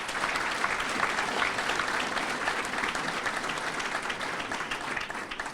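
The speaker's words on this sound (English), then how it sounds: "Let's give them a round of applause." Sustained audience applause fills a hall during a sold-out sports hall of fame induction ceremony, a steady dense clatter of many hands at moderate loudness throughout with no pauses.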